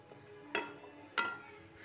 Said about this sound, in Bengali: মশলা এবং বাটে ধোয়া জল দিয়ে কিছুক্ষণ কষিয়ে নেব।